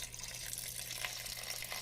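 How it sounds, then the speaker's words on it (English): Water pours into a soup pot of split peas and chicken stock, a steady, soft rushing splash lasting a couple of seconds, close and fairly quiet. "Next I add 1 box of chicken stock and 1 additional cup of water."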